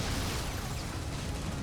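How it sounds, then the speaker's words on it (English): Missile explosions in the action game Ninja Gaiden Black 2, a dense, continuous rumbling roar of blasts heard loud and alone. "Oh no, missiles."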